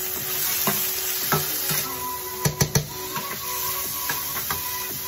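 Tofu frying and sticking in a pan for satay noodles: a steady sizzle runs throughout, with periodic scraping strokes of a utensil and a quick cluster of sharp knocks against the pan near the middle, close and fairly loud.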